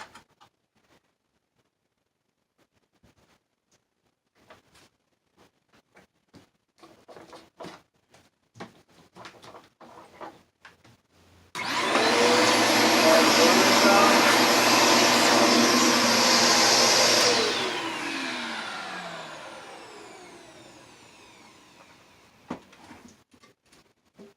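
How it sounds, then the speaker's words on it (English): A drill spins a bigger bit to deburr a hole in a stereo component's metal chassis, giving a loud steady whine of about six seconds that winds down slowly, with scattered handling clicks before and after. "we'll take a bigger bit just to get rid of the burrs there"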